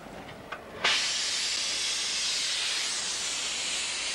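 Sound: gas and oxygen burner hissing from nozzle

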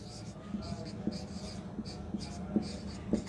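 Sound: writing an accounting entry by hand

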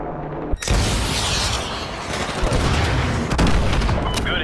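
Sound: explosions of a missile strike in the video game Call of Duty Modern Warfare 2

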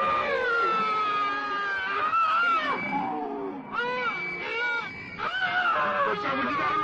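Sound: person screaming in horror film

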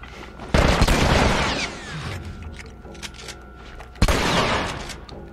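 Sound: shotgun gunfire in The Last of Us video game

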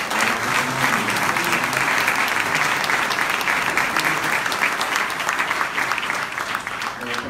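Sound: applause

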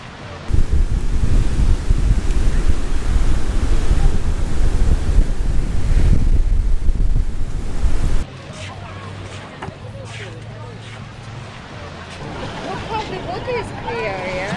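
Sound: ocean waves at Naples beach pier

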